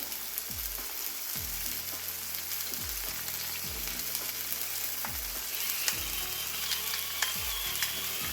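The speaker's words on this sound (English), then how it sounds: "I'm going to sear them really good on both sides." Pork chops for honey-garlic pork searing in a hot pan, a dense continuous sizzle, close and steady, with soft musical notes underneath and no speech.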